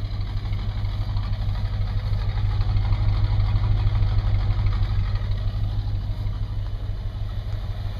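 An old Starsky & Hutch limited-edition barn-find car, burning oil and fitted with a big single exhaust, idles with a steady low throbbing engine note, close and fairly loud, holding even throughout with no voices.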